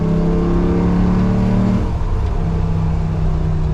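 A 1970 Ford F250 pickup with a swapped-in Coyote V8 accelerates under throttle, a loud, steady engine drone that rises, dips briefly in a gear change near the middle, then pulls on again, heard from inside the cab.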